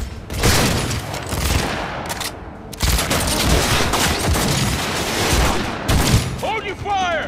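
Rapid, loud gunfire bursts fill a firefight in the video game Cyberpunk 2077, with booming shots rolling almost continuously and voices speaking in between.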